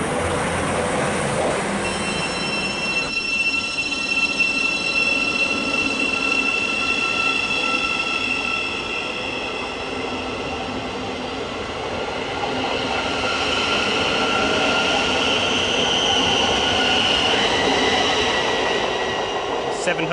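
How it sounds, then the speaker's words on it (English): Thameslink and East Midlands Railway trains run through West Hampstead station in a long, loud, steady rumble of wheels on rails, with high squealing tones and faint clattering throughout. "You've got Thameslink trains which stop here and East Midlands Railway trains passing"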